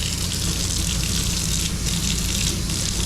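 Hot water gushing steadily from a faucet fed by a newly installed tankless water heater, a loud, close, continuous rushing flow with no voices.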